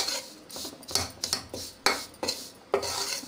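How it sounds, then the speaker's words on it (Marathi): Spoon scraping and clinking through dry stuffing masala for Maharashtrian stuffed green capsicum (bharli shimla mirchi), a run of close, rhythmic rasping strokes with small metallic taps, no voices. "मसाला तयार आहे, त्याला छान मिक्स करून घ्यायचे।"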